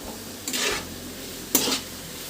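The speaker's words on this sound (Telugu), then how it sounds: "ఇప్పుడు హై ఫ్లేమ్లో పెట్టి మిక్స్ చేయాలన్నమాట" A spoon scrapes and stirs meal maker pulao, rice with soya chunks and coriander, in a pan over a high flame, in two short clattering passes that stand out clearly over a faint background hum.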